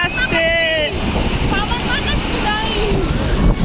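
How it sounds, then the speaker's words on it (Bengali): Sea surf rolls and breaks continuously on Puri beach, loud and close with wind buffeting the microphone, while excited voices call out over the crashing water. "এটা বড় ঢেউ আসছে, সিরিয়াসলি"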